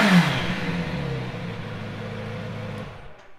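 A 2018 Kawasaki Z900RS motorcycle engine is revved up close, starting with a loud rising roar and then settling into a throaty, steady idle that fades slightly toward the end.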